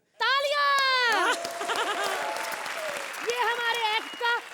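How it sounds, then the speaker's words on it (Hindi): On a televised comedy show stage, an audience claps and cheers. Bursts of applause sit under loud, drawn-out, bleating-like vocal sounds and speaking voices, with the clapping strongest in the middle stretch. "तालियां!"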